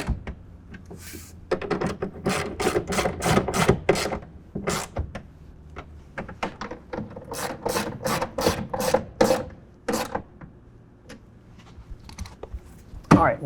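A 1/2 inch socket and ratchet tighten a bolt on a hard folding tonneau cover for a 2024 Toyota pickup, producing close, sharp ratchet clicks in quick repeated strokes with brief pauses between.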